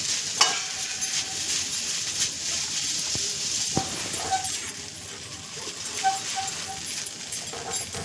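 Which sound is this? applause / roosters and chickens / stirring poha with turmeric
stirring poha with turmeric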